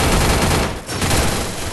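MP40 submachine gun fire from the game Free Fire during a solo-versus-squad match. Two rapid, loud bursts of shots come close together, separated by a brief pause.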